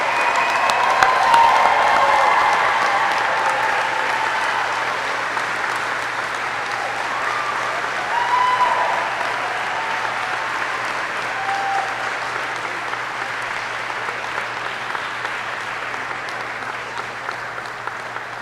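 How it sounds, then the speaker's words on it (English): A crowd at a U.S. Army flight school graduation ceremony applauds the newly graduated aviators, with broad sustained clapping that swells early and then slowly fades across the whole stretch. "Please join me in a round of applause for the Army's newest aviation warfighters."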